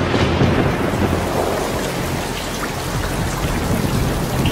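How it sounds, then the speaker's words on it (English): Loud, steady rain pours down with deep rolling thunder rumbling underneath, a dense wash of sound with no voices. "it rains methane"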